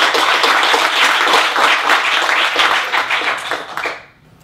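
An audience at a progressive coders' hack night gives a warm round of applause for Katie Robbins, a single payer health care campaigner. The clapping is dense and lively, then fades out over the last half second.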